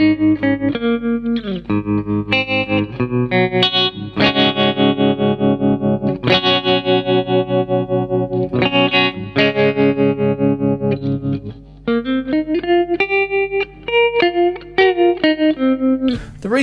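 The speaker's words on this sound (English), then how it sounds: "With the tremolo circuit, when you're hearing it, it's going up and down all the time." An electric guitar through a modified Boss TR-2 tremolo pedal plays chords and short phrases with a pulsing, wavering tremolo, the volume swelling and dipping continuously throughout.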